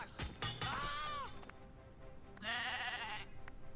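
Two wavering sheep bleats as a sound effect, loud and close, separated by a short pause, with a sharp knock just before the first.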